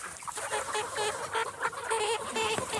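Chickens clucking on a free-range poultry farm, several birds chattering and clucking in overlapping bursts, close and busy throughout.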